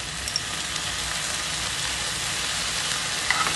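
Soy sauce sizzles as it hits frying aloo gobi manchurian in a hot pan, a dense, even hiss held close throughout, with a couple of faint clicks.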